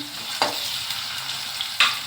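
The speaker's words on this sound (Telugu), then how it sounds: "ఇవి చక్కగా వేగుతున్నాయండి" Spices with ginger-garlic paste and dried mint sizzle and crackle in hot oil, a steady frying hiss close by, with a couple of sharper pops and stirring scrapes.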